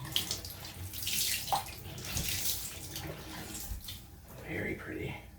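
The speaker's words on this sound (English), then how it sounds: "and then just squeeze the water out." Wet yarn, folded over and wrung by hand after a soak to clean it, releases water in splashy trickles and drips, close and moderately quiet, with irregular surges of pouring water.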